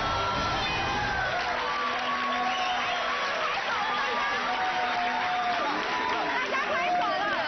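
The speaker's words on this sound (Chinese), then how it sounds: "大家拍手了" A talk-show studio audience claps and cheers, a continuous wash of applause mixed with crowd chatter and scattered whoops, with voices talking over it.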